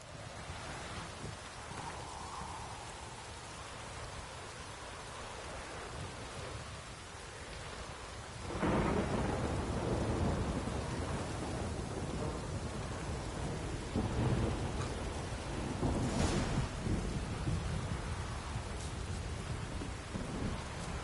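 Rain and thunder in The Witcher 3, a steady downpour hissing throughout with low rumbling thunder that swells louder from about the middle onward, heavy rolls and cracks over the constant rain, no talking.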